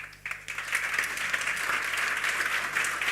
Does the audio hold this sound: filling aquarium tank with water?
no